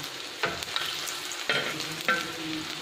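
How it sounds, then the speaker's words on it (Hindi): White chickpea kebabs coated in dry chickpea flour fry on a griddle over a low flame, a continuous soft sizzle with a few sharp pops or scrapes, close by and without speech. "तो फ्राई करूँगी।"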